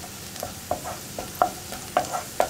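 Masala with turmeric being stirred in a frying pan for vegetable bonda filling, a series of short spoon knocks and scrapes at a steady pace over a low sizzle, close and clear with no voices.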